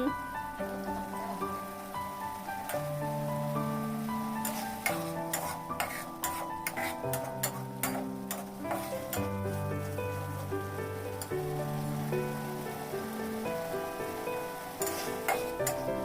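Canned fish and oil sizzle steadily in a pan while being stir-fried for a holy basil dish, with soft scraping stirs and crackles under continuous background music.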